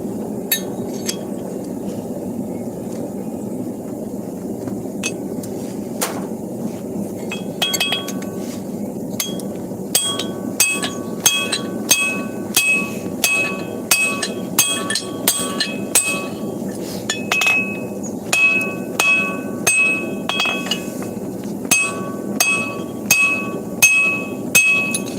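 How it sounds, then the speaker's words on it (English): Big hammers forging metal at a blacksmith's forge in snowy weather: repeated loud, ringing strikes on steel, sparse at first and then settling into a brisk, regular rhythm, close by over a low background hum. "Lots of swinging big hammers."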